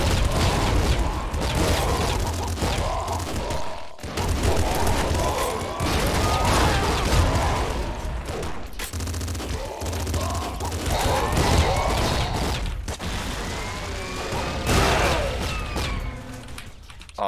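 Nuclear Throne's Gatling Slugger pounds out a continuous, loud stream of heavy shots with booming impacts and whistling ricochets, running nearly unbroken for over fifteen seconds with brief dips, a voice occasionally talking underneath.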